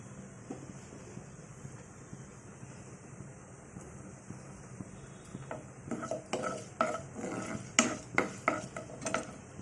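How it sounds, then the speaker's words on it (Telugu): Green chillies frying in a pan for an ivy gourd (dondakaya) curry, a low steady sizzle building into louder clattering stirs and scrapes of a utensil against the pan toward the end. "వేగుతున్నాయి ఈ వేసిన మిరపకాయలు"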